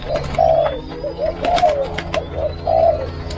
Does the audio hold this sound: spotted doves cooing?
yes